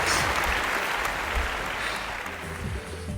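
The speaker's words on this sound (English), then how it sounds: "Give yourselves a big round of applause!" Children's audience at a virtual balloon magic show applauding, a dense, steady wash of clapping that holds loud and close throughout, thinning only slightly near the end.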